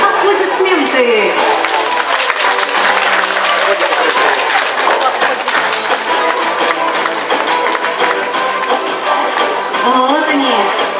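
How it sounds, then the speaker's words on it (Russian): Loud, continuous clapping at a sea lion show, with the trained sea lions and the audience applauding together. Voices and a busy crowd run through it without pause. "а теперь настоящие аплодисменты"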